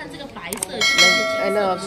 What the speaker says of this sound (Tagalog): Sa pinakatuktok may malaking kampana.